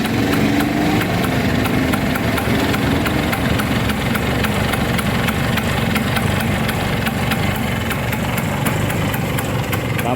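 An original-engine Vespa Super 75 scooter idling, a steady close putter with a fast regular ticking beat and constant loud rumble, no voices.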